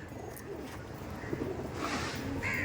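Teddy pigeons, a Pakistani breed kept at a home loft, giving soft low coos against a steady background hum and faint chirps.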